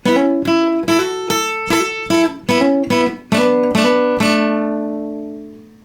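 An acoustic guitar plays the introduction to a song: a series of plucked notes and chords in a steady rhythm, ending on a ringing chord that fades.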